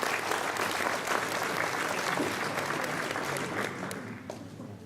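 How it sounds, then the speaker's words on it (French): An audience at a regional enduro motorcycle event applauds a rider, steady dense clapping from a crowd lasting the full clip and fading slightly at the end, with no voices over it. "Mesdames et messieurs, vous pouvez l'applaudir."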